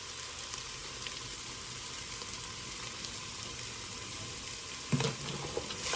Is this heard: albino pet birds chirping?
no